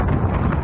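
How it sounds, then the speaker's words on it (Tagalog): Wind buffets a microphone outdoors, a dense low rumble with gusty swells lasting under a second, loud and close with no other sounds. "Medyo mahangin lang dito guys."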